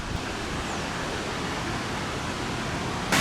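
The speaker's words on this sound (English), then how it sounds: "there's a ball stuck in a waterfall" A waterfall rushes in a steady, broad roar, with a ball caught and tumbling in the falling water outdoors near ducks; the wash is loud and continuous throughout, with no voices.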